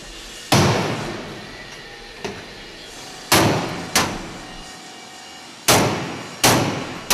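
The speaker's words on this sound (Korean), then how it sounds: "여기저기 망치질에 여념이 없다." Hammer blows on steel safe bodies in a safe-making factory: a handful of loud, sharp metallic slams with ringing decay, spaced irregularly over steady workshop hum, with no speech.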